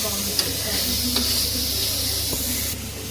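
Tomato masala frying in hot oil for a mutton curry: a loud, continuous close-up sizzle and crackle, with faint occasional clinks of stirring beneath it.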